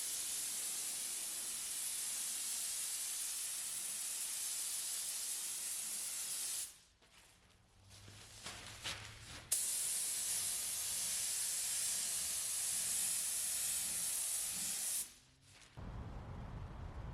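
Primer is sprayed onto a wooden Tegart nuc box as a long, steady, loud hiss that cuts out twice for brief pauses with faint handling noise, then resumes, with no talking.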